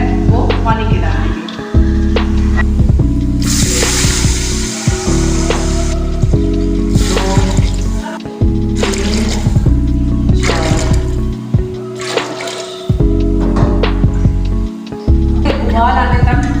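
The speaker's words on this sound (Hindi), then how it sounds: "अब इसमें हम पानी डाल देंगे।" Water poured from a bowl into a pot of rice for boiling, several separate pours that splash and trickle at close range, alternating with brief pauses throughout.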